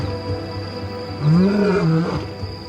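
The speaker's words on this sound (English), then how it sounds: "hearing nearby lions roaring in the night" A lion roars once at night, a deep rising and falling call that swells and fades in the middle of a quiet, steady background hum.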